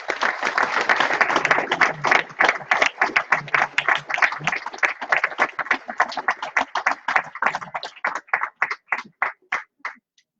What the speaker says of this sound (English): Please give it a big round of applause for Aisling Hickey